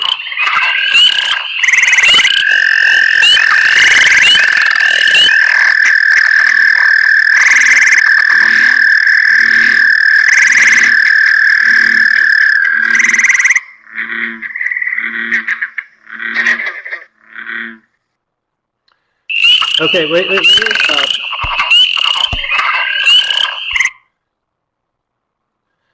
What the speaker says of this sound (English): There is spring peeper. Someone got a bullfrog.